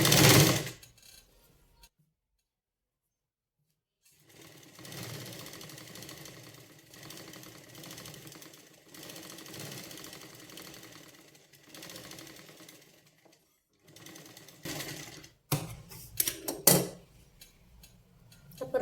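A sewing machine stitches a sleeve lining in bursts of rapid, steady mechanical whirring, with pauses and a silent gap between runs. Sharper handling clatter comes near the end.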